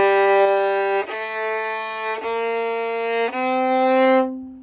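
Bowed string notes from a 6th grade orchestra lesson, starting on open G, move through four sustained pitches in a smooth stepwise line, clear and close with no talking.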